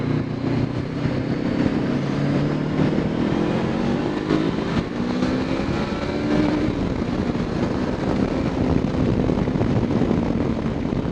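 Honda NX 500 motorcycle engine pulling through second and third gear around 3000 rpm, a steady close drone with gradually rising and shifting engine tones and wind rush, no talking over it.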